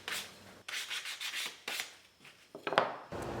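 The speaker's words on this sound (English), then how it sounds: "Then used 220 and hand sanded all the edges of the pieces." Hand sanding the edges of wooden intarsia pig pieces with 220 grit sandpaper, a close, dry rasping rub in uneven strokes with brief pauses between passes.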